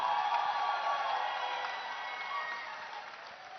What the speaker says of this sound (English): Parul University, round of applause.